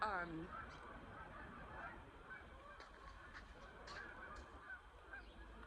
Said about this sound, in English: oh, I thought it was a whole bunch of huskies, ducks